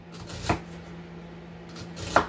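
A knife cuts cheddar brats into slices on a board, making two distinct sharp thunks about a second and a half apart, close and alone.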